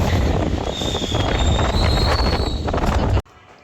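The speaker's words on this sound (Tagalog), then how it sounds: "Lakas ng hangin." Strong whirlwind gusts roar and buffet against the microphone in a loud, gusty rush, then cut off abruptly near the end.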